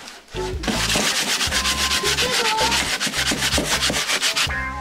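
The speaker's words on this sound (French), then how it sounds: "Le ponçage est un peu laborieux pour les enfants. Si c'est plus facile avec une cale, ils ne tiennent pas très longtemps sur cette tâche monotone." Children hand-sanding a wooden trunk with a sanding block: continuous rhythmic scraping strokes, close and steady, with a repeating back-and-forth pulse and no talk.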